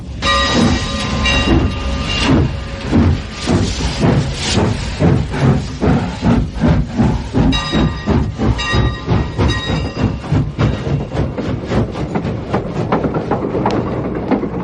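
A steam train sound effect for a Sherlock Holmes radio drama: loud rhythmic chuffs of the locomotive pulling out, starting slow and quickening into a steady beat, with hissing steam and whistle-like tones over a rumbling base.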